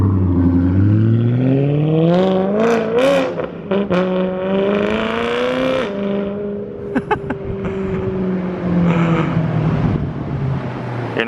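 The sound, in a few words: straight-piped BMW M3 accelerating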